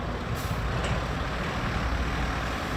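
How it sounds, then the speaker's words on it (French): A heavy food truck bound for Diapaga manoeuvres on a rough road, a steady loud broadband engine and road rumble with no distinct breaks. "Ce camion à destination de Diapaga échoue sa manœuvre."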